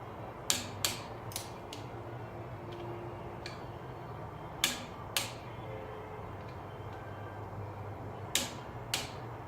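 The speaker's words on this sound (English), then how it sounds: "finish torquing up these 3 outer bolts" A torque wrench clicks as it tightens the crank pulley bolts on a Camaro, sharp metallic ticks that come singly and in quick pairs over a low steady hum, close by, with no talking.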